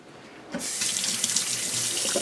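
A kitchen tap is turned on for a quick hand wash, water gushing into a sink after half a second of near silence and then running steadily, close and clear.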